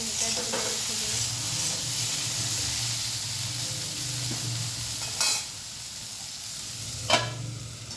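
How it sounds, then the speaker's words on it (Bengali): Food lightly frying in a covered pan while a Bengali poppy-seed paste dish with ginger and onion is prepared, giving a steady soft sizzle with a couple of brief sharper crackles near the end. "এটাকে একটু হালকা হালকা ভেজে নেবো।"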